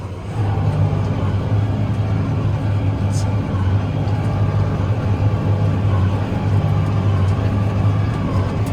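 A Krone baler works hay in a field during first-cut haymaking for organic baleage, giving a loud steady low engine drone with a continuous mechanical hum throughout.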